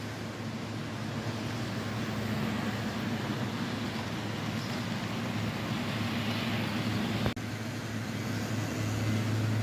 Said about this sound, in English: I turned a couple of these trains down so they'd run a little slower